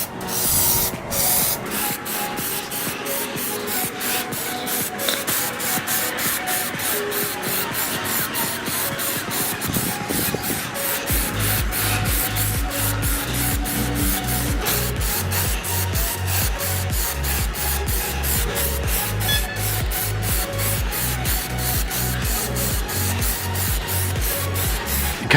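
Plasti Dip rubber coating sprayed from an aerosol can onto a motorcycle helmet, a steady continuous hiss held close and loud for the whole stretch, joined midway by a rapid rhythmic rattling pulse.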